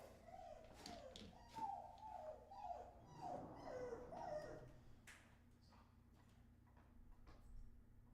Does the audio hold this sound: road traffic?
no